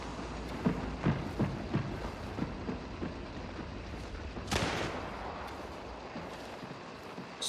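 Gunfire in Hunt: Showdown comes as a run of sharp, fairly close shots around the first second, then scattered reports and one heavy blast midway, over a murky low rumble with no talking.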